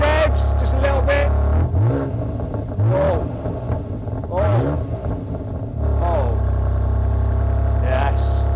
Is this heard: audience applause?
no